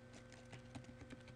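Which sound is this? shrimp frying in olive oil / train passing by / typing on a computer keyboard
typing on a computer keyboard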